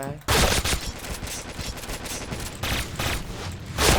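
Shotgun fire in a first-person shooter game, loud rapid blasts packed close together throughout, with a player's voice mixed in among the shots.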